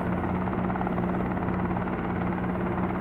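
A helicopter's engine and rotor in a helicopter simulator video game hum and thrum steadily, a continuous droning whine with a low rhythmic rotor pulse, loud and unbroken with no talking.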